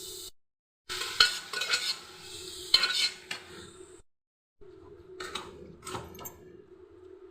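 A spoon scrapes and clinks against a pan while stirring cooked dal and chow chow together, in irregular bursts of scraping with short gaps of silence, close and fairly quiet.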